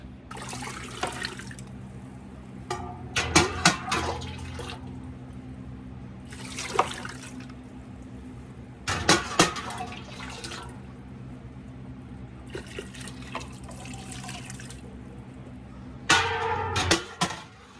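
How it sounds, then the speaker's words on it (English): Hot water from a pot used to heat lids and jars is poured into a canner holding jars, heard as several short splashing pours spaced apart over a steady low hum. "I'm going to use the hot water from my pot that I heated up my lids and jars in."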